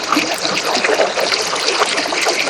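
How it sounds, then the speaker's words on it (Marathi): Strong, forceful river water rushes steadily in a Satara river during cool, cloudy early-monsoon weather, a dense continuous close-up wash of flowing and splashing water with no pauses. "खूप जास्त फोर्स आहे पाण्याचा"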